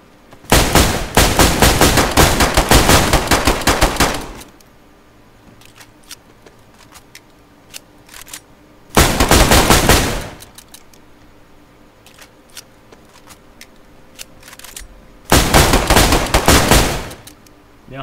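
Bursts of rapid automatic gunfire from a DayZ firefight, a loud sustained volley emptying a full magazine, then a pause with scattered shots, a second short burst and a third burst at the end.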